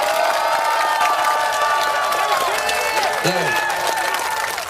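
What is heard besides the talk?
crowd cheering and applause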